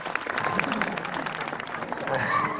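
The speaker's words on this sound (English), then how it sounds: "let's give Ernie a big round of applause" Audience applause at an outdoor eagle and bird-of-prey show at Warwick Castle, steady and moderately distant, with a voice talking over the clapping and a bird's cry briefly audible.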